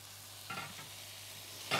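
Chicken fries in ghee with coriander and vinegar, a soft continuous sizzle close by with two brief bursts of louder crackling.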